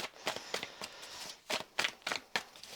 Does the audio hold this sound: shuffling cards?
yes